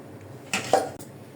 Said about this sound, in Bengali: কড়াইটা বসাই দিচ্ছি, গরম হতে থাকুক।